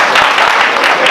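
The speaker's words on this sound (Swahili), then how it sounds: "Haya, makofi ya nguvu kwa mama wetu." Brief burst of crowd applause for Mama Rechael Dawai at a Kenyan political rally, dense and continuous clapping close by for just over a second.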